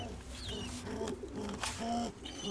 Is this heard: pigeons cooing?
yes